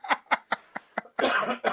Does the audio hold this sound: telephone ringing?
no